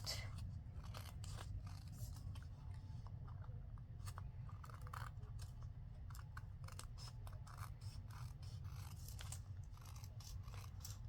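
Small scissors snipping paper for an envelope project, a steady run of crisp, close cuts and crunchy snips repeating irregularly over a low background hum, with no talking.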